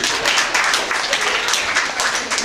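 Sustained applause from the audience at a Phi Mu sorority hypnosis show, with dense steady clapping filling the room throughout.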